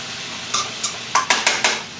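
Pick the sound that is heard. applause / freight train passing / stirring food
stirring food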